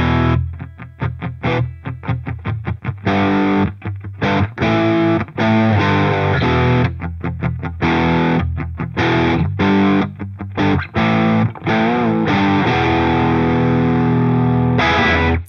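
An electric guitar played through the Amplitube 5 Custom Shop amp plugin with heavy distortion: loud, dense chugging chords and riffs with rhythmic stops, then sustained ringing notes, with no talking.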